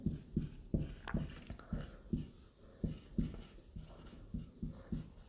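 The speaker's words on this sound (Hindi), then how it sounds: "इसको हम यहाँ पे लिख लो" Chalk or marker strokes on a board during a trigonometry lesson, a steady run of quick taps and scrapes in an irregular rhythm, close but faint, with no talking.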